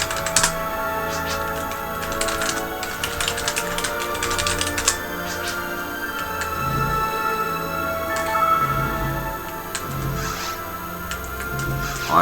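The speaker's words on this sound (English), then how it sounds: "Yeah, you can just use the keyboard to type." Rapid clattering keystrokes on a computer keyboard while entering text in the PC game Phantasy Star Online Blue Burst, close and continuous with brief pauses, over a steady low background hum.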